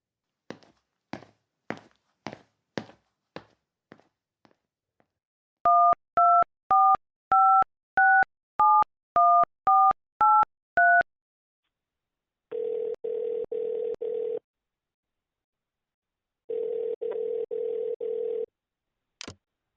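A telephone in an audio drama: a run of sharp clicks, then a quick series of paired dialing beeps, then two long bursts of ringback tone separated by silence, all crisp and close.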